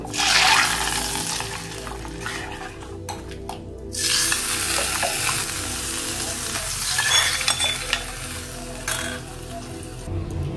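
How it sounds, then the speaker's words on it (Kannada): Steady sizzling of hot ghee with cumin seeds and dried chillies crackling, overlaid by stirring and a few clinks of a utensil against the pan, no voices. "ನೆಕ್ಸ್ಟು ತುಪ್ಪ, ಜೀರಿಗೆ ಮತ್ತು ಒಣ ಮೆಣಸನ್ನು ಒಗ್ಗರಣೆ ಮಾಡ್ಕೊಂಡಿರೋದು"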